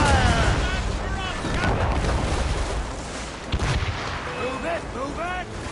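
Ship cannons booming in Assassin's Creed Rogue remastered, dense roaring naval battle noise with a sharp blast near the middle, set against chaotic background and shouted voices.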